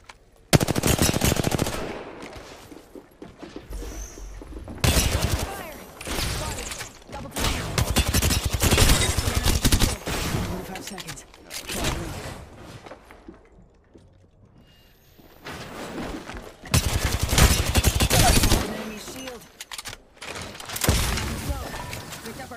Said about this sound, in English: They're definitely shooting at us